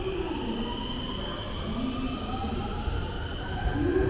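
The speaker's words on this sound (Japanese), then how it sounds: "新三田行きの普通列車が出発していきます。" A JR Takarazuka (Fukuchiyama) Line local train bound for Shin-Sanda pulls out of Nishinomiya-Namaze station, making a steady, continuous rumble of wheels and motors that holds even and close throughout, with faint high squeal tones.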